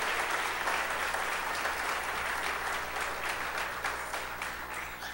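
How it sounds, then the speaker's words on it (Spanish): Church congregation applauding loudly, a dense continuous roar of many hands clapping together that keeps going steadily and fades slightly toward the end. "Ese aplauso, recuerden que no era para mí, era para el Señor."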